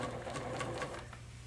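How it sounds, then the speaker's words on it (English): A sewing machine stitching quilt sashing runs with a quick, steady mechanical patter of needle strokes, moderately faint and close, fading slightly toward the end. "I'm just going to continue sewing through, pull out my pin."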